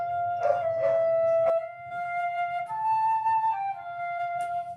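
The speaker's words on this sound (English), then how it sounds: "Yes, it is a flute being played." A flute plays a sustained, breathy tone that shifts through a few held notes, with a soft percussive tap partway through.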